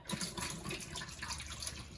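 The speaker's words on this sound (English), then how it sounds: "I like to rinse them a couple times just to make sure that we get all that vinegar water back out" Black beans being rinsed under a running kitchen tap to wash off vinegar water during home canning prep; a steady close splashing stream of water into a sink, continuous throughout with no talk.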